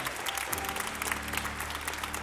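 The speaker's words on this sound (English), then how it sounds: "Can we clap our hands one more time and honor him today?" A church congregation claps loudly and continuously for a couple of seconds, a dense wash of many hands close by.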